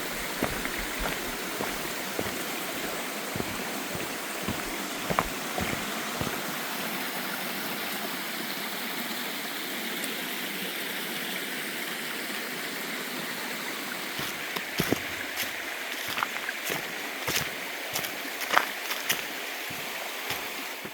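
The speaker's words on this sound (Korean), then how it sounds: "이곳에도 계곡 물소리가 경쾌하네요" Steady rushing of a mountain stream, water flowing continuously at moderate distance, with occasional light taps and knocks scattered through.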